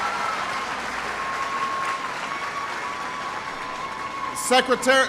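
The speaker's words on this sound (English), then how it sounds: "I want everybody to give him a big round of applause" A town hall meeting crowd in Costa Mesa, California, claps in a steady, sustained round of applause, with a voice breaking in near the end.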